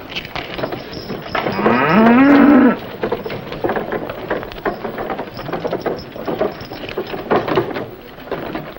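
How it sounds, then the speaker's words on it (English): A cow gives one long, loud, drawn-out moo with a rising pitch over steady background rain-like noise, set in an old western frontier fort farmstead. "I'll milk the cow."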